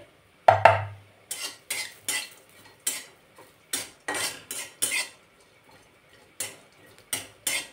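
Dry coconut slices being roasted in a kadai for stuffed bitter gourd masala, with a utensil stirring in a steady run of close, clattering metallic scrapes and knocks and no talking.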